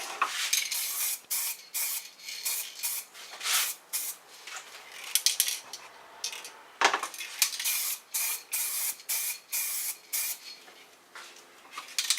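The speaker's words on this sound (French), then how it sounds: "L'avantage de la bombe, c'est que ça sèche assez vite et ça comble les cavités." An aerosol spray paint can lays down a matte first coat on a weapon, giving repeated close hissing bursts of varying length separated by short pauses, with no talking.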